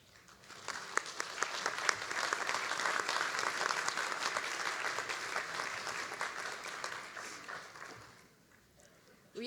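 Graduating students at an Eastern Washington University Spokane commencement stand and applaud their families and supporters; the clapping builds quickly, holds as a broad, sustained roar with distinct individual claps, then fades out near the end.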